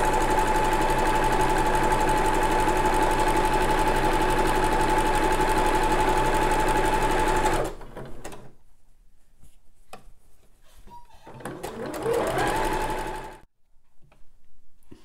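A sewing machine runs a zigzag overcast stitch along a seam of a butterfly-sleeve pyjama top, humming steadily and loudly for about seven seconds, then stopping, followed by quieter handling noises and a brief second burst of stitching.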